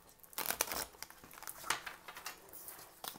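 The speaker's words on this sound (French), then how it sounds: "si vous n'avez pas envie de me regarder voir battre les cartes" A deck of tarot cards being shuffled by hand, giving quick papery riffles and soft slaps in uneven bursts, close and fairly quiet with no voices.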